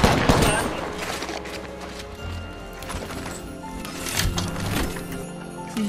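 Rapid gunfire in the shooter game Apex Legends crackles in dense bursts for several seconds, loud and close, with scattered impacts and game effects layered underneath; no one speaks over it.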